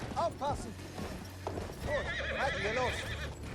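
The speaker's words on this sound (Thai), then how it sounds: "ขี่ม้าเข้าวัง" A horse gallops and neighs in the Battlefield 1 video game during German cavalry combat: hoofbeats thud rapidly while several sharp whinnies rise over the top, loud and close, with gunfire-like bursts mixed in.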